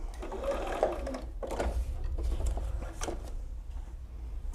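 A sewing machine runs in a few short close bursts while sewing half square triangle quilt blocks, its whirring stitches separated by brief pauses, with no talk.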